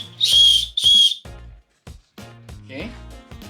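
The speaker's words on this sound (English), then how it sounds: "buckle with whistle." A plastic whistle built into a backpack's chest strap buckle gives two sharp, loud shrill blasts up close, followed by handling clicks and someone talking.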